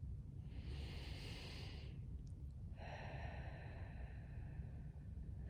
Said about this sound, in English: With the element of air, I breathe deep into my body